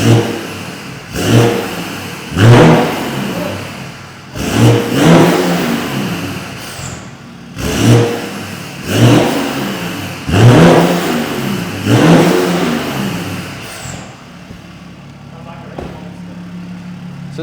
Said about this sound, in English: Now you know what a 330D sounds like with a straight pipe